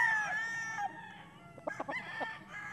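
A rooster crows among a flock of fighting-breed chickens, a drawn-out harmonic call with clucks and calls from other birds, close and fairly loud, with no talk.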